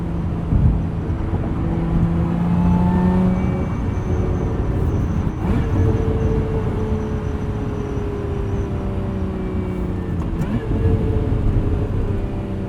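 2024 Lotus Emira with a 6-speed manual gearbox, heard from inside while driving: a steady loud engine drone and road rumble, with shifting engine tones and a couple of brief clicks, and no talk.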